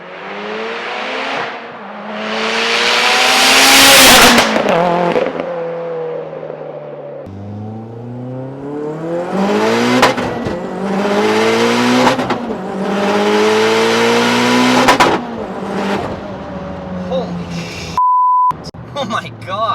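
A 500 WHP 2014 Mitsubishi Lancer Evo GSR with a turbo accelerates hard through repeated gear pulls, its engine note climbing and dropping between shifts, loud and close from inside the car, with a brief beep near the end.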